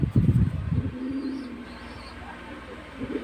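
A pigeon coos low and close in short, throaty bursts at the start, then the sound drops to a soft murmur while the bird is held and given eye drops.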